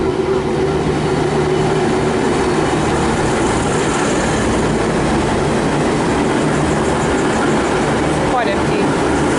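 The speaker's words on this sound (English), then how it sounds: "VL43 is leading, it's a 6-car train." A six-car VLocity train led by VL43 runs near Clayton in Melbourne, a steady, loud rumble with rail rhythm and a brief squeal near the end.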